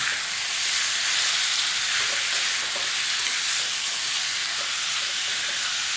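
Pickled bamboo shoots stir-fried with chili and chicken, giving a steady loud sizzle and hiss from the pan with faint stirring scrapes throughout and no talking.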